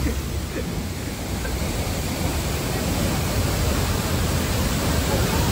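A waterfall heard from inside a cave behind and beneath the falling water near Satara, a steady, loud, unbroken roar of broadband rushing noise that stays constant throughout.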